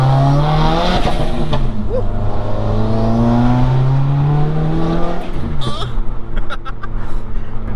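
A Stage 3 Subaru WRX with all-wheel drive and its hood off, accelerating hard through the gears. The loud engine climbs in pitch with each rev, and there is a clear gear change partway through. Voices can be heard over it.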